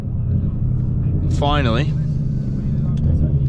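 A Vortech-supercharged 2019 Ford Mustang GT, tuned by Lund Racing on pump gas, idles with a steady low rumble from inside the car, while someone says a short word over it.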